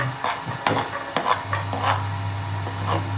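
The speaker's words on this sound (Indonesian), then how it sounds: "Setelah itu kita masukkan terlebih dahulu bawang bombay" Onion frying in a pan for a noodle porridge, stirred with a utensil: a steady sizzle runs throughout, with scraping stirs and a few light clinks near the start.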